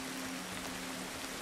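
Steady rain hisses softly and evenly in Ancestors: The Humankind Odyssey, a faint continuous wash with no voices.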